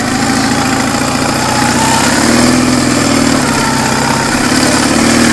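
A vehicle stuck in snow on a frosty day, its engine droning loudly and steadily while the wheels spin, the pitch rising and easing slightly with no break.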